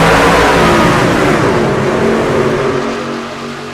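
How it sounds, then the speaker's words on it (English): Racing trucks in a Daytona video game race roar past in a loud, close engine surge that fades slightly toward the end, with no voices over it. "These trucks are roaring tonight."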